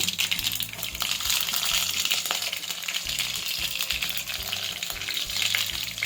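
Green chilies and mustard seeds fry in hot oil in an Indian pan, a steady close sizzle with crackling pops and spatters running throughout.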